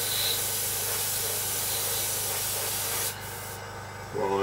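Airbrush or spray can misting varnish onto a small scale model aircraft, a steady close hiss running for about three seconds, then a quieter softer spray before a brief clatter at the end.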